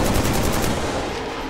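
Rapid suppressing gunfire in the video game Killzone 3, a dense, loud burst of automatic shots with no gaps, alone and close.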